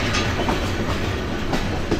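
Kurigram Express train rolling through a long curve near Parbatipur, a steady close rumble of carriages with rhythmic wheel clatter and faint wheel squeal, no voices.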